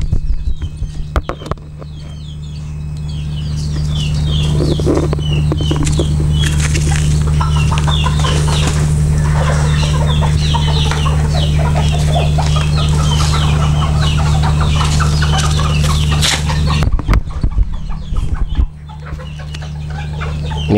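Serama chickens, hens and roosters together, cluck steadily and close by during mate selection, with busy overlapping fowl calls running loud through most of the stretch before quieting near the end.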